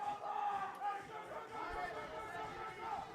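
French teammates shouting encouragement from the background at an ice climbing World Cup lead semi-final in Kirov, faint crowd chatter and cries with some talk over it.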